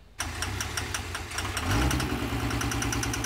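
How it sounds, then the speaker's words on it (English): A freshly built Cummins race engine, broken in and with new oil, fires up on a dyno and settles into a loud, rough, rhythmic run that grows heavier after a second and a half. No one speaks. "it's ready to do some runs in the dyno"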